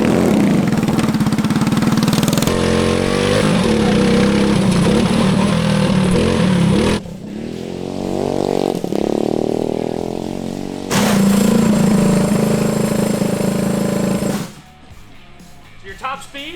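A stock Corvette go kart engine roars through a top speed run with a 5-speed gearbox, loud and close, its pitch shifting between gears, before backing off to a low idle near the end; voices are heard over it.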